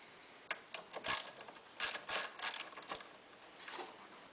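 A ratchet fitted with a 10mm socket loosens the chaincase bolts on a Ski-Doo snowmobile, giving short bursts of quiet ratcheting clicks spread across the clip, close by with no talking.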